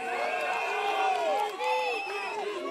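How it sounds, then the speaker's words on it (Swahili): A crowd at a political rally in Kenya cheers and ululates, with shouting voices rising and falling in a dense, lively roar, while clapping is not clearly picked out. "mpigeni makofi."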